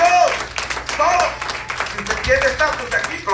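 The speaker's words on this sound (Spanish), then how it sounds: "Denle un aplauso al Señor" Scattered clapping from a church congregation during a Spanish-language sermon, rising and falling irregularly beneath a voice speaking loudly over it.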